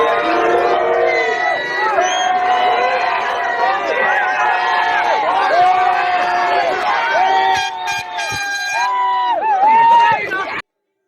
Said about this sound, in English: this is a clip of the protests at East Wall.